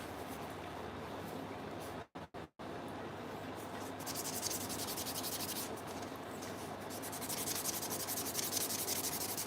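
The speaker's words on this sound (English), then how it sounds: "Using the shaping wheel is definitely a freehand sport." A handmade shaping wheel sands a workpiece freehand, giving a continuous, close abrasive rubbing hiss that briefly cuts out twice and then resumes, growing brighter and harsher in the second half.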